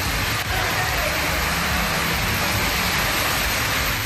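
Heavy rain falling with strong wind for about half an hour, a dense, steady roar of rain and gusts that stays loud and even from start to finish.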